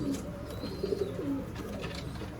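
Teddy pigeons cooing, soft low throaty coos repeating close by over a steady background murmur.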